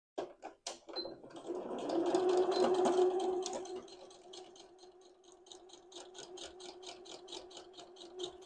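A sewing machine stitches the lace-overlaid yoke of a blouse, a quiet rapid ticking needle rhythm with a soft hum that swells in the middle and then settles into faint, even clicking.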